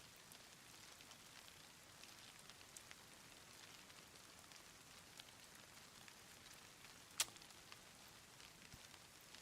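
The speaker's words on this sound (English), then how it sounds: "I do like the rain. It does sound really nice." Steady rain falls in the survival video game DayZ, a soft even hiss of drops on surfaces with a faint sharp tick near the end, quiet and unbroken by voices.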